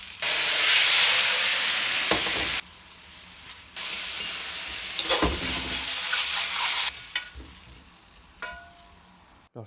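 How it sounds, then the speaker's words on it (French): Mushrooms fry in oil in a pan with a loud, bright sizzle that drops out and returns in bursts, punctuated by scraping stirs, close up with no talking. "On nettoie la poêle, on ajoute de l'huile et on fait cuire les champignons"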